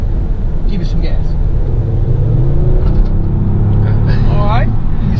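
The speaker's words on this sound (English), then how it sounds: "give it some gas" A 2019 Kia Stinger GT AWD sedan accelerating from around 45 mph, a steady engine rumble rising under continuous road noise, with someone talking over it throughout.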